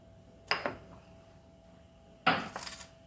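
Mackerel being tossed with marinade in a dish for a Goan rava fry, heard as two short bursts of clinking and scraping from a utensil against the bowl, separated by quiet, with no voice.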